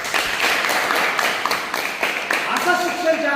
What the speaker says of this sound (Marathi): आपण एकदा सर्व शिक्षकांच्या नावाने टाळ्या